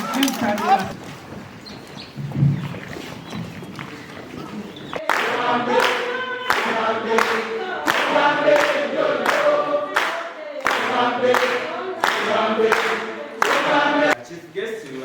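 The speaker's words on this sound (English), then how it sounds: "We can give a round of applause to the first students who have stripped career." An audience claps for the first MSc students graduating at a passing-out ceremony. After a quieter start with background chatter, repeated bursts of applause rise and fall, moderately loud.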